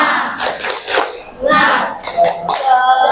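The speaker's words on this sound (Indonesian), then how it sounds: "Gimana kalau tepuk semangat dulu?" A classroom of schoolchildren does a clapping chant: bursts of rhythmic hand claps alternate with shouted group voices, close by and loud.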